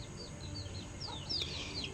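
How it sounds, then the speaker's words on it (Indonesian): A brooding hen, close to laying, gives soft, brief clucks and thin vocal calls over a quiet background. "Lihat ini, si ayam lagi mengeram."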